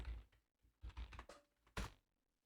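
Password being typed on a computer keyboard: a few short, quiet clusters of keystrokes separated by brief pauses, with nothing else in the background.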